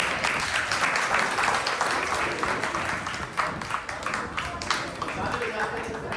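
An audience at a Kshamavani festival panel discussion with scholars applauds in a dense, steady wash of clapping that holds loud throughout and eases slightly toward the end.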